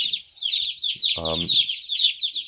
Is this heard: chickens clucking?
yes